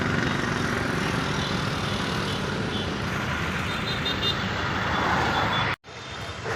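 Steady, loud roar of road traffic stalled in a jam near a metro station bridge in Vastral, heard from a truck, with continuous engine rumble and broadband road noise and a brief dropout near the end.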